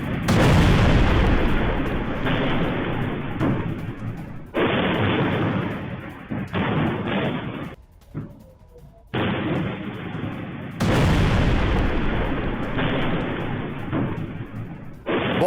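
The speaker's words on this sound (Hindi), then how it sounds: "इजरायली नॉर्दर्न कमांड के हेडक्वार्टर पर रॉकेट से हमला" Hezbollah rocket strikes on the Israeli Northern Command headquarters: heavy, rumbling blasts and booms roll in long loud bursts, broken by a short quieter gap before the thunder resumes.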